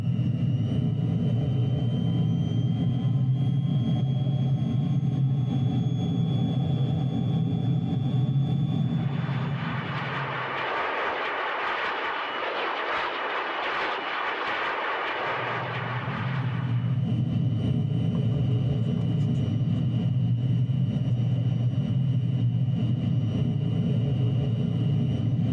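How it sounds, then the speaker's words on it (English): Jet engine of a vintage De Havilland Vampire in Microsoft Flight Simulator 2020, a steady loud low drone that gives way for several seconds to a broad rushing roar before the drone returns. "The aircraft is quite slow to accelerate and climb, so I guess it's pretty realistic for a vintage jet"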